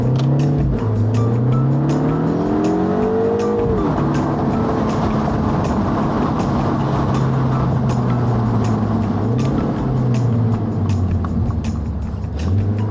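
A 2025 MINI Cooper two-door engine accelerates hard with boost engaged in go-kart mode, loud and close, its pitch rising through gears with shift drops, sustained throughout with no talk.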